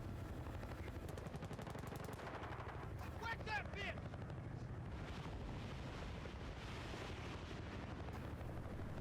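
Helicopter in the video game Battlefield: Bad Company 2, a steady loud rotor and engine drone filling the whole stretch, with gunfire bursts and a few bright chirps mixed in around the middle.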